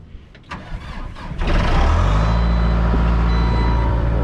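A skid loader engine cranks briefly and catches, then settles into a loud, steady, close idle rumble.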